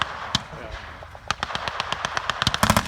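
Bren machine guns fire in a 1944 Normandy village battle, sounding as rapid cracking bursts that thicken toward the end under a voice.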